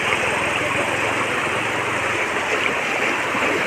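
Floodwater rushes in a strong current across a road between Hailakandi and Silchar, a loud, steady broadband roar that fills the scene and masks a faint voice.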